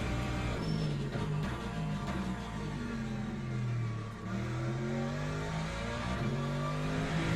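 Race car engine in the sim racing game Le Mans Ultimate, a steady loud drone with rising and falling revs through gear changes, continuous across the whole stretch with no talk.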